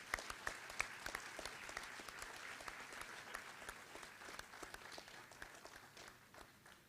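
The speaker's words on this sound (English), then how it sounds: "Could we give them a round of applause" An audience at a Form 5 graduation ceremony applauds the Student Council with sustained, fairly distant clapping from many hands. The applause stays even throughout and thins slightly toward the end.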